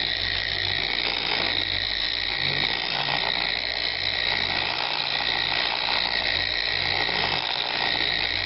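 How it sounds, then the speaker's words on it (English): A Porter-Cable polisher applying wax to a Corvette gives a steady, close, high-pitched motor whine with a constant buzzing drone that holds even throughout, with no pauses and no talking. "It's just the weight of the machine. It's a really nice machine, this Porta-Cable."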